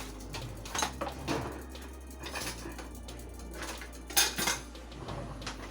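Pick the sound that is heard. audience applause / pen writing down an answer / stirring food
stirring food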